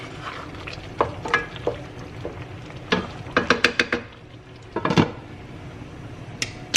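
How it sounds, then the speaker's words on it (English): Sausage and bowtie pasta simmer in a single pot while a utensil stirs through them, producing a soft bubbling sizzle broken by a series of sharp clinks and scrapes against the pot's sides. "to give it a little stir."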